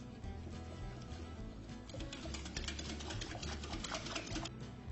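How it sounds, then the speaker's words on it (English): A whisk beats eggless cupcake batter of milk, vinegar and flour in a bowl, giving a steady, fast run of rhythmic scraping clicks, close and continuous, busier in the second half. "Now whisk this all really well."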